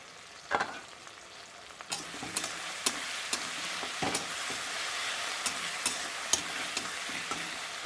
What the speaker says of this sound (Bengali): এবার বেশ ভাজা ভাজা হয়ে গেছে, দেখুন তেলটা ছেড়ে দিয়েছে